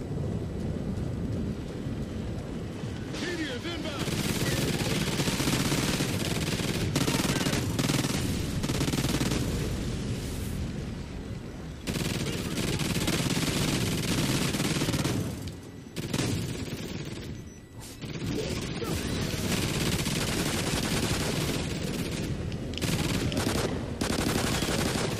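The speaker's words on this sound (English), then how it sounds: "I probably should have been upgrading this minigun just a little bit." A minigun in Call of Duty Extinction roars in long, dense sustained bursts, loud and continuous, with a few brief pauses between volleys and heavy rumbling impacts beneath the firing.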